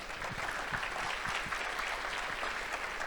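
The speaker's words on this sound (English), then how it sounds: "give them one more round of applause" Distant, faint applause from a conference audience at a closing keynote, a steady even patter of clapping that carries on without a break.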